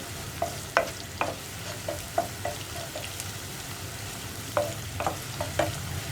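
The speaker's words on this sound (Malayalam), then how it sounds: "എങ്ങനെയാണ് കറക്റ്റായിട്ട് സവോള ഫ്രൈ ചെയ്തെടുക്കുക, ക്രിസ്പി ആയിട്ട് ഫ്രൈ ചെയ്തെടുക്കുക" Sliced onions frying crispy in ghee in a pan, with a soft continuous sizzle broken by repeated close clinks and scrapes of a utensil stirring against the pan.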